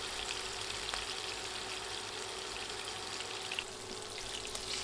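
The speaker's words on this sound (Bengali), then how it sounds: "এখন উল্টে দিয়ে অন্য পাশও ভেজে নিব।" Fish pieces fry in hot oil in a pan for a home-style Bengali fish curry, giving a steady, dense crackling sizzle throughout with no talking.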